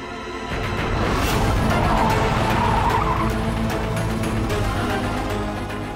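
A car brakes hard to a stop, its tires skidding and squealing loudly and steadily for several seconds close by before the noise eases off.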